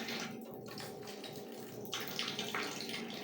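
Water running from a tap in a steady splashing hiss as a young girl washes her face, close and continuous with slight changes in the flow.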